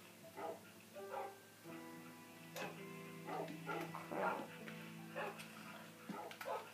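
Several dogs yip, whimper and bark in short, high-pitched bursts across the clip, close by and fairly loud, with a faint voice now and then.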